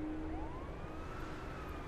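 A vehicle siren wails in The Day Before, a gliding tone sweeping up and then holding, heard at a distance over a steady noisy wash of background sound.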